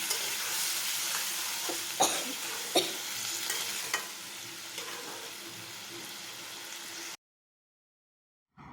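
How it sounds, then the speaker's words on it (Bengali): Spiced dumur (fig) curry being stirred in a pan after a little water is added, with a steady close sizzle and occasional scraping knocks of the spoon, then a short silence before the sizzle returns. "জল দিয়ে ভালোভাবে সব কিছু মিশিয়ে নিচ্ছি"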